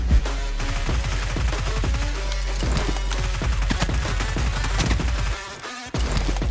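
A UMP submachine gun fires in a video game with rapid, close, loud bursts of regular shots that repeat almost without pause, then briefly cut out near the end.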